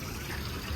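A garden fountain splashes and gushes in a steady, close wash of water at a flower and garden festival, with no talking.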